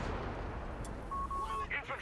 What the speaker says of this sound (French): Canon anti-tank sur ton M8.